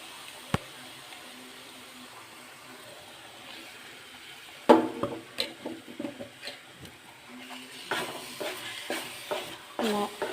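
A coconut mixture is stirred as it fries in oil in a pan. Quiet sizzling at first, then steady close scraping and clattering strokes start partway through and continue in an uneven rhythm.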